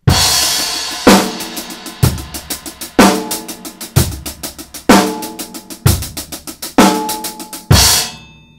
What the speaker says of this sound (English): Right hand moves through, moves onto the snare halfway through, so it sounds like this.